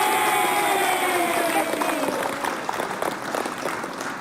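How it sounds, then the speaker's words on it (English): A group of people clapping during a live news broadcast, steady applause with some cheering and crowd voices underneath, staying fairly even before easing slightly in the later seconds. "Let's clap for all of them."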